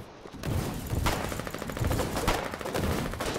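Sustained gunfire in a war video game, rapid overlapping shots and bursts rolling continuously at close range.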